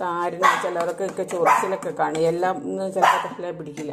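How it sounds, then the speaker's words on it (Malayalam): A dog barks a few times in the background, spaced out and moderately close, beneath steady talking that dominates throughout. "പട്ടി കുരച്ചാലും കേൾക്കണം"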